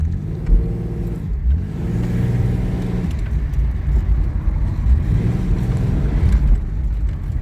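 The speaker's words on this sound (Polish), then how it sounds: "Napęd przedni, rwie się do przodu ten samochód." A front-wheel-drive Chevrolet Beretta with a 3.1 V6 engine pulls away and accelerates on its first drive after a long standstill. The engine note climbs loud and close in two rising revving pulls.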